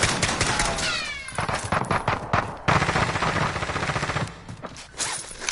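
Rapid bursts of heavy gunfire from big guns in a shooter video game, dense and loud, with repeated volleys running throughout alongside other clattering game sounds.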